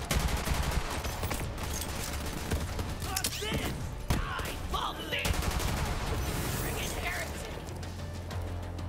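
Video game gunfire with heavy recoil: rapid bursts of shots and mechanical clicks run densely through the whole stretch, loud and continuous, with some speech-like sound mixed in.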